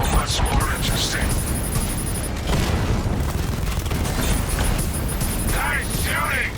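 Gunfire in Batman: Arkham Knight, with a steady rattle of shots and booming impacts running under game character voices that talk across much of the stretch.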